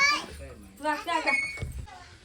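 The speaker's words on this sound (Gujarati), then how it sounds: "તો ચલો હવે તો બધા છોકરો રમે જાય છે." Children's voices chatter and call out playfully close by, lively overlapping kid speech in a short burst.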